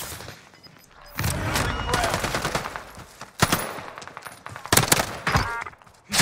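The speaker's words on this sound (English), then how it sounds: "the recoil on the Automaton isn't horrible" Automaton rifle fire in Call of Duty Rebirth Island, loud close bursts of rapid shots that start after a quiet second and recur in several clusters, with short pauses between them.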